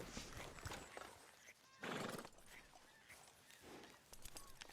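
A horse in the Red Dead Redemption 2 game gives a long, breathy whinny amid soft clip-clopping hooves and rustling, all quiet and close against a low ambient background.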